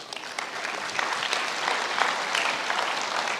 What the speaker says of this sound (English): Once again, a round of applause to Tarik Alatovic.